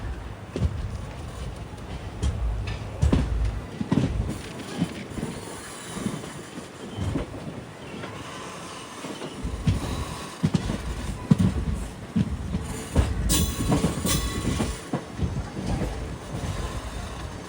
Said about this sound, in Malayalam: ട്രെയിനിൻ്റെ ലോക്കോ അങ്ങതാ